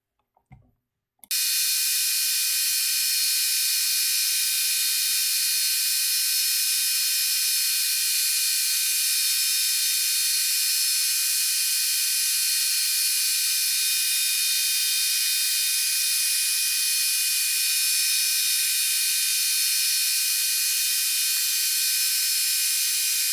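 Grinder working an ER32 collet block, a loud, steady high-pitched whine that starts abruptly after a brief thump and holds evenly to the end.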